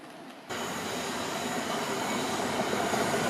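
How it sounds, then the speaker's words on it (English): A model railway Network Rail train runs past on a layout, a steady close rolling rumble with faint wheel squeal starting abruptly and continuing without voices. "Next one through is the Network Rail train, which we used to see once a month, usually with a pair of Class 37s on it."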